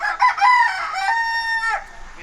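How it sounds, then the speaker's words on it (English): Rooster crowing close and loud near a chicken coop on a farm, one full cock-a-doodle-doo lasting about two seconds, with no one talking during it. "You gonna crow?"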